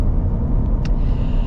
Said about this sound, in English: you hear the tires, it's not obnoxious